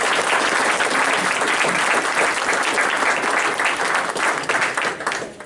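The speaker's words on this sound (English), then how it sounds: "and one more round of applause." Loud, dense applause from a school district board meeting audience, a continuous roar of many hands clapping that holds steady and fades slightly at the very end.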